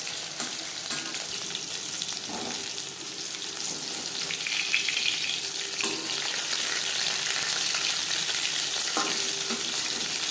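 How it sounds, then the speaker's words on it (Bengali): Fish frying in hot oil in a pan makes a steady, close sizzle that runs unbroken throughout, with a few faint clinks and stirring sounds over the hiss and no talking. "একটা সাইড ভাজা হয়ে গেলে অপর সাইডটা উল্টে দেবো।"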